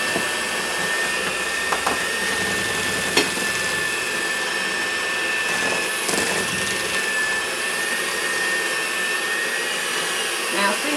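An electric mixer whirs steadily and close as it blends sour cream pound cake batter, a continuous motor drone with a few faint clinks against the bowl.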